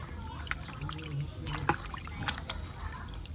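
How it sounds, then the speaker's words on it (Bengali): Water trickles and splashes softly while raw meat is washed by hand, with a continuous low dribble and occasional small splatters. Voices murmur faintly in the background. "তো বন্ধুরা মাংস ধোয়া কমপ্লিট।"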